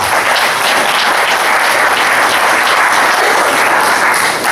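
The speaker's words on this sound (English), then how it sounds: "We all, thank you, please applaud them all." A crowd at a political candidates' event gives loud, dense applause, a continuous wash of many hands clapping close by with no talk over it.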